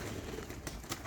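Pigeons cooing in a breeding loft in the evening at feeding time, low soft coos under steady ambient noise, with a couple of brief flutters or calls standing out.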